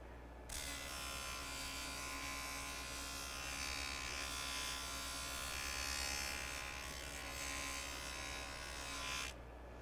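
A JoolTool grinder sharpens pruning shears with a constant high buzzing whine. The sound starts abruptly, holds steady at close range for about nine seconds, then cuts off.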